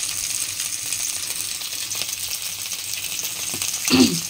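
Food fries gently in a little oil in a wok over low gas, a soft continuous sizzle with faint stirring clinks and a brief louder scrape near the end.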